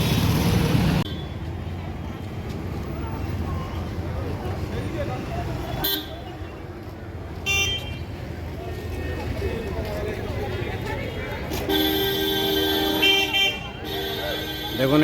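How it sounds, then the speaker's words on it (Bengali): Busy road traffic at the Shilpashree bus stand in Bally, with engines rumbling and repeated car and bus horns tooting near and far, while someone talks over the noise. "এটাই হচ্ছে শিল্পশ্রী বাস স্ট্যান্ড।"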